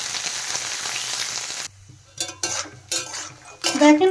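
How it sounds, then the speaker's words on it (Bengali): Peanuts and curry leaves fry in hot oil for spiced puffed-rice masala muri, a steady loud sizzle that cuts out, followed by scattered stirring scrapes and clatter. "বাদামের সাথে কারি পাতাটাও আমি ভালো করে ভেজে নেব"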